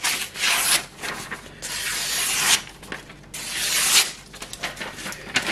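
A knife blade is drawn over a coarse Naniwa or Shapton whetstone, giving repeated rasping, hissing strokes in a steady back-and-forth rhythm, close and fairly loud.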